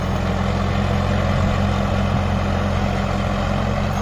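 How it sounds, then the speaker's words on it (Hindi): Steady, loud drone of a Sonalika DI 35 tractor engine held at 1900 rpm in third gear, pulling a 7-foot rotavator, with an even low rumble and no pauses. "हमने 1900 पे चला रखा ट्रैक्टर।"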